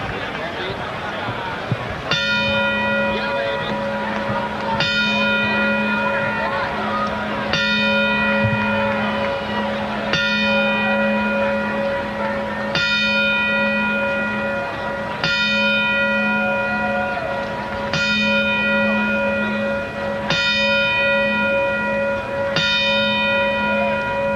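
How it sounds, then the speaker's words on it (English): Ten-bell salute rung on a boxing ring bell at a televised boxing event, clear evenly spaced clangs each ringing out and decaying, loud over a hushed arena crowd. "we would like to play our traditional 10-bell salute in his memory"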